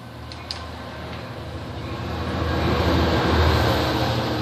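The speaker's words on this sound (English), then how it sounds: "That's my train." A train passing nearby: a low steady rumble with rolling rail noise that gradually grows louder and fuller over several seconds, a faint click early on, no speech.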